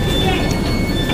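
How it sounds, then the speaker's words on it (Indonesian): A new white passenger train in Taiwan rumbles steadily with a continuous broadband roar and a faint high whine, heard from close by with no break for the whole short stretch. "Ini kereta baru, paling baru di Taiwan tuh"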